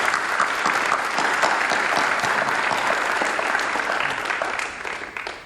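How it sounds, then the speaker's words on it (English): An audience applauds the 2017 National Honor Society induction class, steady dense clapping that stays loud throughout and begins to thin out near the end. "Have a big round of applause for our incoming class."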